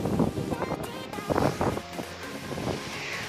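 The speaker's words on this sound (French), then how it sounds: "Désolé si vous entendez un peu de vent, il y a beaucoup de vent" Heavy wind buffets the microphone outdoors beside a 2018 Trek Procaliber 6 mountain bike, with low rumbling gusts and roaring bursts, steady throughout, with no clear voices.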